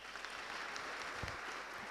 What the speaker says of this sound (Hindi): ताली बजाएं इसके लिए